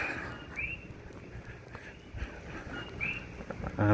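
Steady rain falls at night in Hilo, Hawaii, a soft continuous patter with occasional louder drips and taps, close around the listener with no voices.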